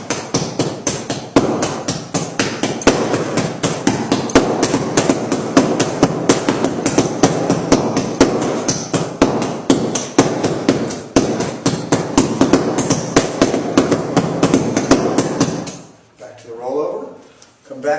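Nunchaku tips strike a training bag in a fast, even stream of loud, sharp slaps for about sixteen seconds, then stop abruptly.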